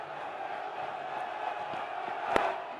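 A packed cricket stadium crowd roars steadily as a batsman nears his century, a dense continuous wall of cheering and whoops with a sharp clap-like spike near the end.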